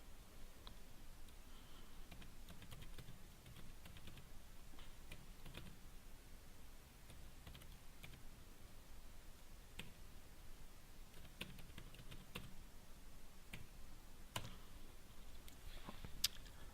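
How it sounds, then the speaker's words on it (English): Quiet, close keyboard typing as a web address is entered, a run of soft rapid key clicks with brief pauses and a few sharper taps, no talking. "I'm going to just go ahead and type out the entire address"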